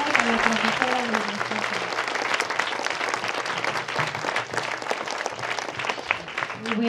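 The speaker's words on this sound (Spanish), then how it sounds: "Pido que le den un fuerte aplauso." Strong, sustained applause from a crowd at a school ceremony welcoming the school director, dense clapping throughout with a voice briefly heard over it near the start and end.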